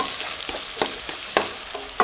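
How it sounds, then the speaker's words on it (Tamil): Finely chopped onions sauté in butter in a pan for street-style pav bhaji, a soft, steady sizzle broken by a few sharp scrapes and clicks of stirring. "வெங்காயம் நல்லா வதங்கட்டும்"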